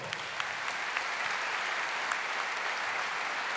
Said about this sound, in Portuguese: Uma salva de palmas para Diogo Abreu